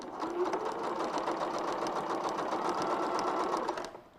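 A sewing machine with a quarter-inch foot chain-stitches quilt pieces in a steady, fast, close whirring run that stops abruptly near the end.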